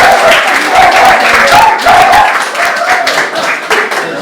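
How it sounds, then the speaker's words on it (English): Loud standing ovation from an audience at a live showman's performance, thick continuous clapping with cheering voices rising within it, close and energetic before thinning slightly. "Thank you for that round of a standing ovation."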